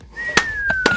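A woman whistling a single clear sustained tone that glides slowly downward, close and loud, broken by a few short clicks.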